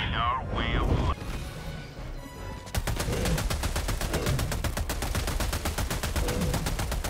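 Rapid automatic gunfire from the Pummeler in the video game Helldivers 2, a dense stream of loud shots after a brief burst of game sounds, with a player talking over it.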